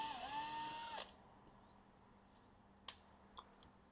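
Small power drill boring a pilot hole: a brief whining motor run of about one second with a pitch dip as it bites, then it stops, leaving quiet room tone with a couple of faint clicks.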